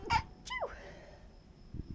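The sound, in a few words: sneeze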